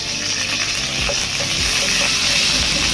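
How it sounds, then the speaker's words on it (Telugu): Curry leaves and dried red chillies frying in hot oil for an Andhra fish curry, a dense continuous loud sizzle and crackle with faint stirring knocks, close up and without any talking. "దీని తర్వాత ఇందులో కరివేపాకు, ఎండుమిర్చి వేసుకొని కొంచెం ఫ్రై చేయండి."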